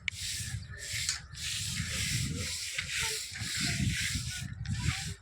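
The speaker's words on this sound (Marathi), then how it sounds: "खालून वर हे बघा झाडू आणि ह्या चिरावरती झाड मारून घ्यायचं आहे" A broom sweeps a cracked concrete slab from the bottom up in steady, scratchy strokes with short pauses between them, close and fairly faint.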